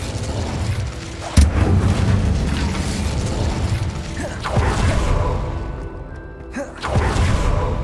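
Incendio fire spell cast in Hogwarts Legacy, loud blasting bursts of magical flame over a dense game soundscape, with sharp onsets near the start, middle and end.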